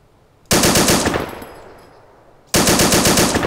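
Automatic gunfire in the video game ARMA 2 erupts in a loud close burst of rapid shots that decays into a long echoing tail, then a second burst starts abruptly near the end.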